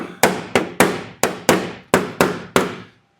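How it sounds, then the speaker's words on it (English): Eight sharp hammer blows tap a piece into place during custom glass work, each a bright close metallic whack with a short ringing decay, struck at an irregular steady pace before falling silent. "I'm going to take the hammer, and that'll go right in."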